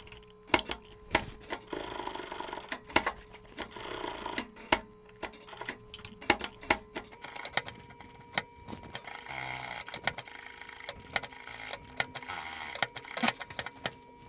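A sewing machine runs double topstitching on 90s-style jeans, heard as quiet, close rapid ticking and clicking that starts and stops in short runs with brief pauses, without voices.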